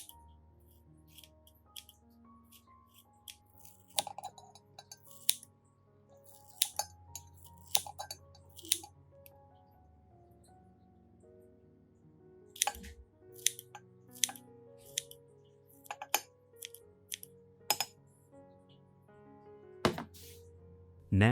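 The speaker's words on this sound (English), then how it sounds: "I will chop the banana peel into small pieces and place them into a clean glass cup" Banana peel being chopped into small pieces with a knife on a board, producing scattered sharp thunks and cuts in uneven bursts, close and fairly quiet, with no talking.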